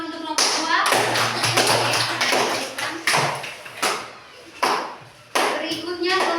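Applause in a classroom for a student group, with bursts of clapping that swell and fade several times alongside children's voices chattering under and between the claps.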